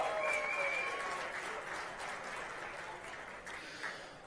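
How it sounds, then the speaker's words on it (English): Sustained audience applause at a motorsport championship year-end banquet, a steady broad wash of clapping that eases slightly over several seconds, with faint voices and whistles mixed in. "A big round of applause."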